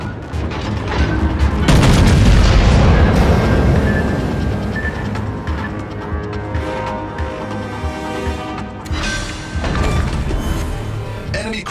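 An enemy cruiser explodes in a naval combat game, a loud heavy boom that swells and slowly rumbles away, with scattered gunfire-like cracks and a second thump later.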